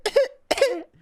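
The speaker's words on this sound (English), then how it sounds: "Like you might get like a cough." Two quick, harsh coughs, close and fairly loud, with a short gap between them.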